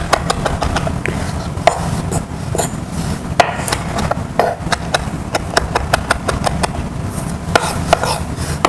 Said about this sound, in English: So there's our rosemary, and we'll just chop that up.